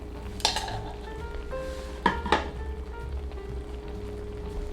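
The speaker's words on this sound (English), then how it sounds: "we are going to simmer it for 1 more minute" Oyakodon chicken and egg simmering in a frying pan give a soft, continuous sizzle close by, broken by a few light metallic clinks and taps of utensils against the pan.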